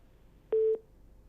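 A single short telephone busy tone sounds on a disconnected phone line, one clean steady beep against a quiet background.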